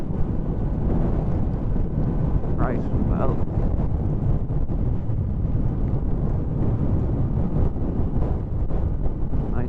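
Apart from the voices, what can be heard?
strong wind blowing on microphone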